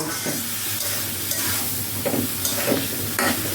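Taro fries in a hot pan under a dense, continuous sizzling hiss, with occasional scraping and clattering as the pieces are stirred and turned.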